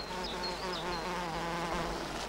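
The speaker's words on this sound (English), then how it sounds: "The bee fly probes even though the nectar isn't there." A bee fly buzzes continuously around a wild orchid in Israel, a steady close insect drone with a few faint high chirps in the background.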